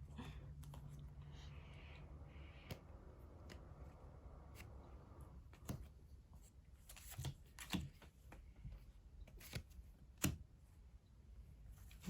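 Playing cards are shuffled close by during a casual podcast game, with soft riffling followed by scattered sharp clicks and taps at a low level.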